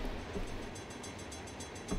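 An auto train in the Run8V2 train simulator rolls past near Waycross, with a low rumble and a regular clickety-clack of wheels over rail joints, steady and fairly faint, alone without talk.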